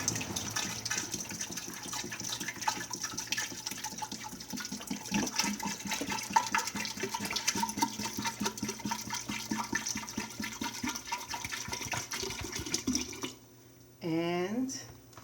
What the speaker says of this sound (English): I'm going to add the rest of the water from my first gallon into my fermenting jar.